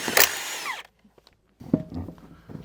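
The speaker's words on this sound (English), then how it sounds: "It's a lot easier to change a trailer tire with an impact gun than a 4-way." An impact gun zips loudly in one short burst while changing a flat trailer tire, followed by a pause and then quieter clanking and handling noises.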